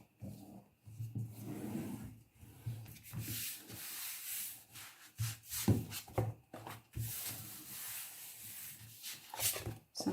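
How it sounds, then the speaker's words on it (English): Paper being burnished down onto a model railway layout with repeated rubbing strokes, a close, dry scraping that comes in uneven bursts with brief pauses, no talking. "Give that a good burnish."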